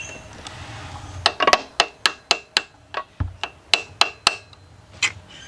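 Sharp metallic hammer strikes on a center punch set against a hard engine part during a Kia/Hyundai timing chain job, about a dozen evenly spaced ringing blows in a steady rhythm, close and loud, with no talk.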